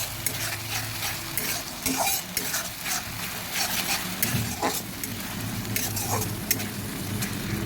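Ginger and onion paste frying in a pan and being stirred, with a continuous close sizzle and repeated scraping strokes of the spoon against the pan.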